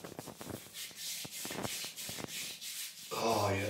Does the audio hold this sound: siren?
no